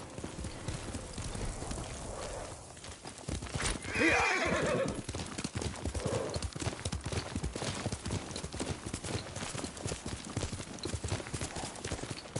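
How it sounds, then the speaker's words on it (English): A horse in the video game Ghost of Tsushima whinnies loudly over a steady clip-clop of hooves and rustling movement, the hoofbeats continuing throughout. "Yuriko's horse."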